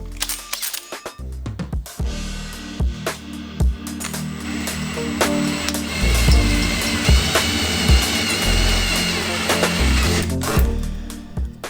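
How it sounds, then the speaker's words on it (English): A hole saw cuts a snorkel hole through the body panel of a 60 Series Land Cruiser for a Safari SS60HF snorkel, giving a loud, sustained grinding whine broken by sharp clicks and brief pauses. "when drilling this hole you don't want to drill it at the same angle as the body panel"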